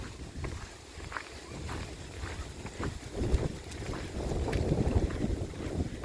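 Wind blowing outdoors in a park, a continuous rough buffeting rush against the microphone with gusts that swell and ease, plus scattered low thumps.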